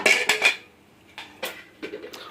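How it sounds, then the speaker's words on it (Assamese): A pressure cooker holding rice and vegetables is opened in a kitchen. Several bright, close metallic clatters of the lid, pots and utensils come in short bursts with quiet gaps between them. "কুকাৰটো মই ধুনীয়াকৈ খুলি চাম বস্তুখিনি কিমান কি সিজিলে"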